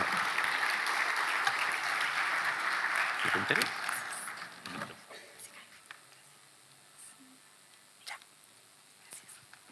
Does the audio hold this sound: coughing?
no